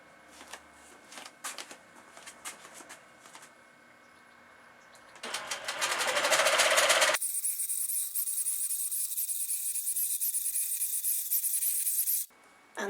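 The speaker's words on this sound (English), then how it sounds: "There we go, last stitch on the long arm." A long arm quilting machine stitches a large cathedral windows quilt, first a light rapid clatter, then a louder steady mechanical hum that runs for several seconds before cutting off abruptly, close by with no talk.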